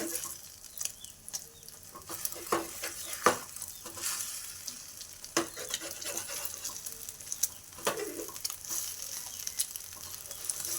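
Egg toast fries in a pan, giving a soft continuous sizzle broken by scattered scrapes and clicks from stirring or turning, close up and with no voices.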